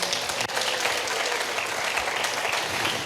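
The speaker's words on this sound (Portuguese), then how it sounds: "Vamos aplaudir a Ele." A church congregation breaks into sustained applause, a dense, even wash of many hands clapping together that fills the room without letup.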